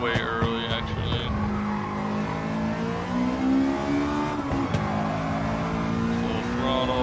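A race car at full throttle in Gran Turismo 7 on Trial Mountain, its engine note climbing steadily through the gears with brief tyre squeal, loud and continuous, with a voice talking over it.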